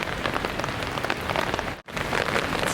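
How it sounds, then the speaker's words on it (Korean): Heavy rain pouring down on a forest campsite, a loud, dense, close patter of drops on surfaces that continues steadily except for one momentary dropout. "비가 엄청 많이 내리기 시작했어요."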